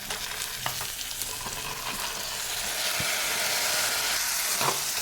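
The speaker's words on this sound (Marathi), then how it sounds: "या भाज्या या मसाल्यामध्ये छान अशा मिक्स करून घ्यायच्या आहेत" Vegetables are stirred into hot masala in a pressure cooker while making veg pulao. A steady, close sizzle with scraping stirring strokes continues throughout, and no voices are heard.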